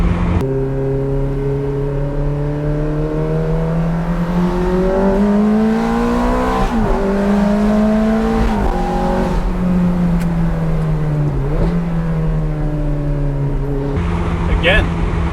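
A Ferrari F430 Spider engine drones loudly at hard throttle from inside the cabin, revving up through gears with pitch climbing and dropping at each shift, under a steady road roar.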